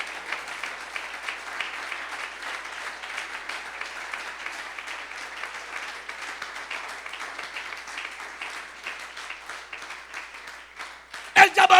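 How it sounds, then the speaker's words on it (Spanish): Sustained applause from a church congregation rises and fills the space for several seconds, steady and fairly dense, with a louder clatter right at the end. "suelta ese aplauso para el Señor"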